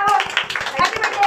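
A classroom group claps in farewell, a short burst of rhythmic, evenly spaced hand claps with voices mixed in underneath.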